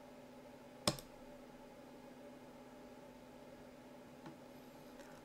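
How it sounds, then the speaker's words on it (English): A single sharp computer mouse click on the update button, fairly close and distinct, with a fainter second click a few seconds later over a steady low hum. "I'm going to click update."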